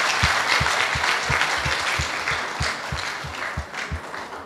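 Dense, steady applause from an audience at a debate competition final after a speech, filling the whole stretch with a rhythmic low thumping beneath it.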